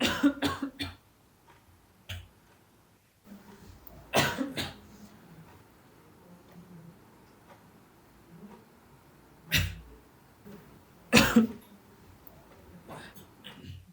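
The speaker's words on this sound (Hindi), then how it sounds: "सुबह से लगातार खांसी चल रही है" A person coughs repeatedly at close range, in harsh bursts spaced irregularly apart with quiet stretches between them.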